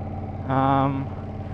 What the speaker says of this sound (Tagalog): As expected sa Ducati, maingay-ingay yung makina nila.